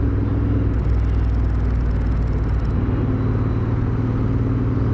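A Royal Enfield Himalayan or Interceptor 650 motorcycle engine drones steadily while riding, a loud, constant low rumble with a brief rise in pitch partway through, and no talk.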